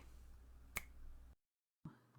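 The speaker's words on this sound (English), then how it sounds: "I'm gonna snap my fingers" A single sharp finger snap rings out crisply against faint room tone, followed by a brief silence and then a soft low rumble.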